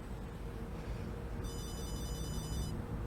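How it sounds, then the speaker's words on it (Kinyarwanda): A telephone rings once, a bright electronic trill of about a second, fairly clear above a constant noisy background. "Telefone rasoni."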